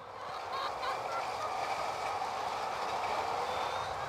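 Hens clucking at feeding time in a poultry house, a dense continuous chatter of many birds at moderate distance, steady throughout with no voices.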